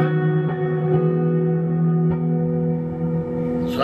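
A sustained electric guitar chord rings out with a lush reverb tail, a few soft picked notes layered over it, alone and close.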